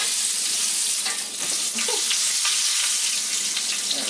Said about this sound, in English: I'm going to go ahead and flip them back over so they can toast a little bit.